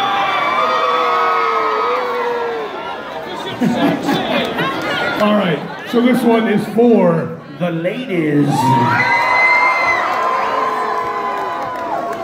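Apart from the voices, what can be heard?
concert crowd cheering at a show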